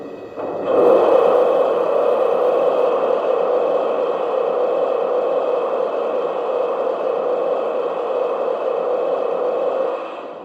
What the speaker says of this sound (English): Here's the sound of steam being blown down.